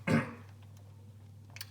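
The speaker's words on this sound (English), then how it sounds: "I have a bit of a dry cough." One short, dry cough from a man close by, a harsh burst at the start, followed by quiet room hum and a faint click.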